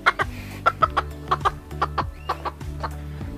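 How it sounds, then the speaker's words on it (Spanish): A hen lying down in the sun clucks repeatedly in short, rhythmic bursts, close by, with a steady low hum underneath. "la gallinita se, se acostó para recibir el sol"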